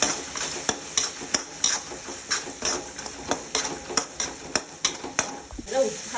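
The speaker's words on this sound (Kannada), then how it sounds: "ಎಣ್ಣೆಯಲ್ಲಿ ಚೆನ್ನಾಗಿ ಬಾಡಿಸ್ಕೊಳ್ಬೇಕಾಗುತ್ತೆ" A spoon scrapes and stirs through ingredients sizzling in hot oil for masala chitranna, with regular rhythmic strokes over a constant loud frying hiss.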